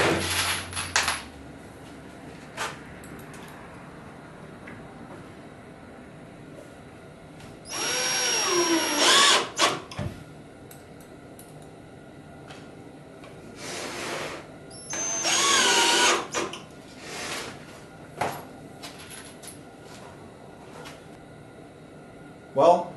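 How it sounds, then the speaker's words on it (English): A power drill drives screws into the back of a plywood kitchen cabinet carcass. It comes in several separate bursts of high whirring with quiet gaps between them, with faint workshop noise and talk between the bursts. "drive 2 screws from the bottom and the top into the back of the cabinet"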